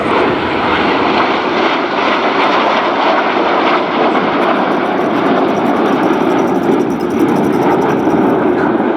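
Aircraft fly overhead at an air display at the Biggin Hill Festival of Flight, a loud sustained engine roar that fills the whole stretch without a break.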